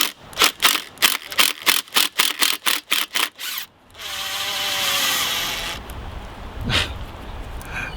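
A power tool rattles in rapid bursts while backing seized bolts out of a Force 40 Mercury outboard engine block, a run of about a dozen regular pulses followed by a steady grinding whir, close and loud with no talk.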